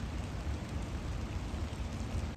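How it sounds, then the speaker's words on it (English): Light rain falls steadily outdoors at a cemetery, a soft continuous patter at fairly low level with no voices. "Getting a little rain today."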